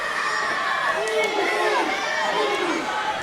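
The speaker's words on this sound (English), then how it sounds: "You see the fist pumps, you hear the chants." A wrestling crowd at NCG Triumph chanting and cheering for Moose during his match against AJ Francis, a loud, dense arena roar with rhythmic voices and shouts filling the space.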